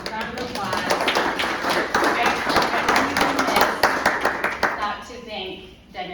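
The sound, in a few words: audience applause at lecture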